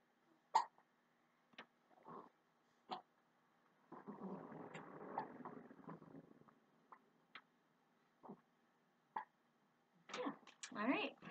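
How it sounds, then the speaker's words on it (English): A baby hiccuping, with short sharp hiccups spaced irregularly across the span, one low murmuring stretch in the middle and a cluster of louder bursts near the end, all close and alone in a quiet room. "Good hiccups and everything."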